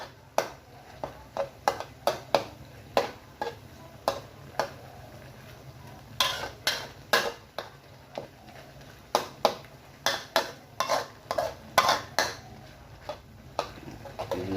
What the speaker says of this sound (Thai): คั่วกิ้งเขาจะรวนให้หมูสุกรวนให้แห้งเลยนะครับ